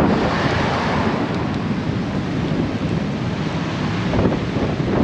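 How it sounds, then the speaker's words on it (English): Constant roaring surf and wind rush fill the air, a dense, steady wash of ocean noise with no voices. "We're at the ocean, at the Pacific."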